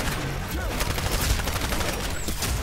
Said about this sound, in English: Stupid smart pistol.